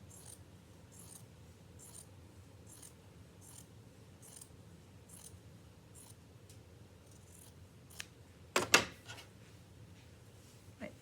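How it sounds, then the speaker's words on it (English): Scissors snip through fabric while a sewn scrunchie is being trimmed, giving a series of soft, regular cuts, close and fairly quiet, followed by a few louder clatters near the end. "I'm going to trim any extra fabric off here"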